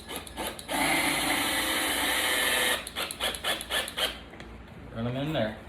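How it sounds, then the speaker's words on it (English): Cheap Walmart impact drill driving 2.5-inch pocket hole screws into wood, a loud sustained whir followed by a series of rapid rattling impact bursts, then a quick trailing sound as it stops. "your Walmart drill with the impact that came with your pocket hole jig"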